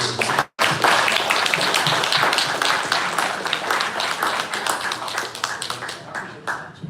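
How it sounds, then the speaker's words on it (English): A room of people clapping for a coffee business pitch, dense and continuous after a brief cut at the start, with some voices mixed in, the clapping thinning slightly toward the end. "let's give it a round of applause"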